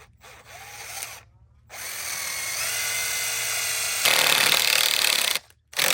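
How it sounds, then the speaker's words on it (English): A power drill bores into concrete while a dog yard runner is installed, whining in long loud bursts with brief pauses, the pitch shifting as the bit bites deeper. "then we'll drill the last hole and get the last eyelet in."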